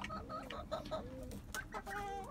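Two hens and a rooster cluck and call close by in a coop, a steady run of short, overlapping calls with no voices.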